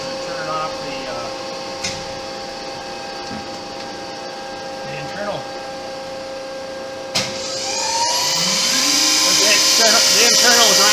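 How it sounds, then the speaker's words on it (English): The internal grinding spindle on a Landis 2R 14" x 36" universal grinder starts after a steady machine hum, rising into a loud, high, sustained whine that keeps climbing toward the end. "it has an internal grinding spindle on it"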